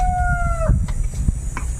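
A rooster crows loud and close in one long call that breaks off abruptly, followed by a few soft clucks from farm fowl in a rural provincial yard.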